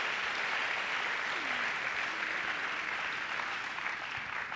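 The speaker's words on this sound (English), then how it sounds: "clap your hands to a faithful God" A church congregation at a youth camp service claps hands in a dense, steady wash of applause that holds evenly throughout, with no voices standing out.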